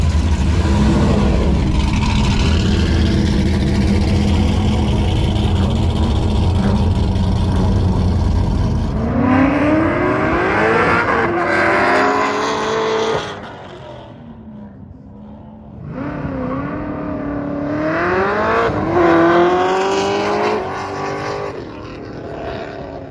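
Race cars accelerate and rev hard around the Optima track at the SEMA Show, engines roaring loudly and sweeping past in rising and falling passes, with a brief quieter lull between bursts.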